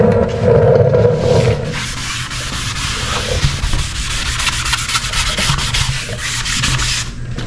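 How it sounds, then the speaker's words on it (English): A classic Impala lowrider's body panel is wet sanded by hand to take off powder, giving a continuous, close, rhythmic rubbing and scraping with steady back-and-forth strokes and no talk. "So you're sanding, wet sanding it. You're just sanding lightly to take the powder off, right?"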